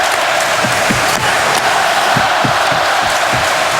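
A loud hockey arena crowd at Joe Louis Arena in Detroit roars and cheers steadily, dense and continuous, with scattered shouts and claps.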